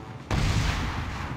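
A sudden, loud explosive blast in the mobile video game Gun Up bursts in and rolls on as a sustained, rumbling roar.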